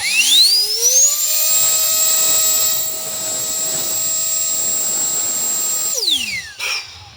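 An ONEVAN cordless leaf blower blows sand on the ground. Its loud motor whine rises sharply as it spins up, holds a steady high drone for about five seconds, then winds down and stops.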